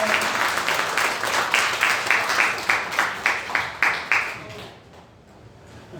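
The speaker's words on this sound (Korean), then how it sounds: "박수로 모시겠습니다" A church congregation applauds to welcome a singer for a special hymn at a service, with a burst of rhythmic, pulsing claps that fade out after about four seconds.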